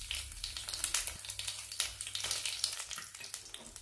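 Dried red chillies and mustard seeds sizzle and crackle in hot oil, a tempering for a Kerala drumstick and anchovy fish curry; close, busy frying hiss with sharp pops and occasional stirring, no voices.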